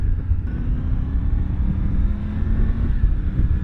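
Triumph Tiger 850 Sport motorcycle engine, a continuous close rumbling drone with a faint rising whine, steady and unbroken for a few seconds with no voices.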